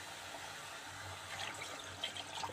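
Water is poured into a pan of meat curry cooking on the stove: a quiet, continuous splashing and gurgling, with no talk.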